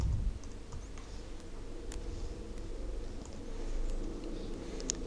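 Someone types on a computer keyboard while building a first HTML web page, a soft, quick run of light key clicks over a steady room hum.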